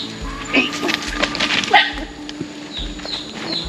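A dog barks and yips a few times amid background noise and rhythmic low thumps, fairly close.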